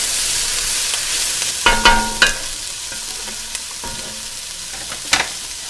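Onions and zucchini sauté in a pot for a minestrone, with a steady background sizzle and a few sharp spoon-against-pot clatters and scrapes from stirring, close by with no talk.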